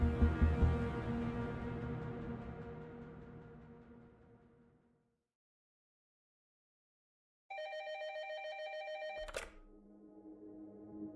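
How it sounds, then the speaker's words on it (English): A telephone on an office desk rings loudly, one long ring fading away, then silence, then a second ring that cuts off sharply with a clunk, alone. "Late that night, Short was sitting at his desk in his office when his phone rang"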